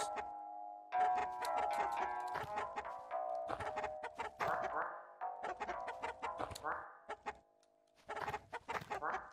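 Chicken clucking in the LISA video game, a rapid run of bright, choppy clucks in bursts over several seconds, with short pauses between runs.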